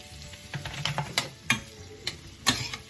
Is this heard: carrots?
yes